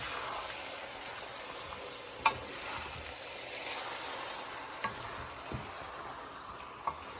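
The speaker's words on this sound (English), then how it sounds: "we're gonna stir everything up" Wild hog pork with lemongrass sizzles steadily in a pan while being stirred, a soft continuous frying hiss broken by a few sharp clicks of the utensil against the pan.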